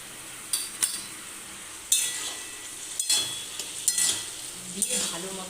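Spice paste frying in a pan for a ridge gourd and rohu fish dish: soft, steady sizzling broken by repeated scraping spatula strokes and light metal clinks, close and fairly quiet.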